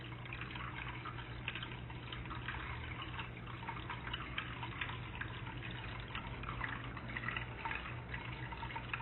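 Small twin waterfalls in a muddy woodland stream at a wildflower preserve, a steady, soft splashing rush of falling water with faint dripping, continuous and fairly close, without any talking.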